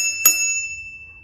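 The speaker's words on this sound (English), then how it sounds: "Or a bell, I should say." A single bright bicycle bell ding on an electric cargo bike rings once and hangs in a thin sustained tone before fading out, close and clear.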